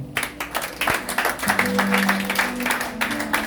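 Congregation applauding during a French-language church worship service, a steady, dense patter of many hands clapping at moderate distance, with sustained organ or keyboard tones underneath and no speech.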